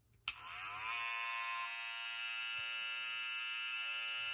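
A Tpob Troll hair trimmer clicks on and runs with a steady, quiet, high-pitched electric buzz that holds unbroken for about four seconds.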